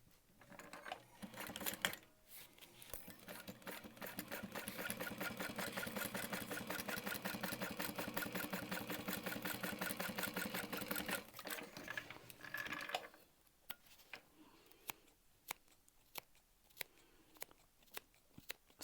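A sewing machine stitches a crossbody bag in one steady, rapid run of about eleven seconds, close and even, then stops and leaves a few separate clicks and snips.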